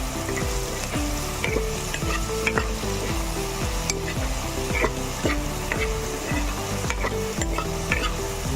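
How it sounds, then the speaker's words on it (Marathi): Onions fry in a pan, a dense continuous sizzle close up, broken by repeated rhythmic scrapes of a spatula stirring them throughout. "आता लालसर असा ब्राऊन कलरचा आपण कांदा भाजून घेऊया"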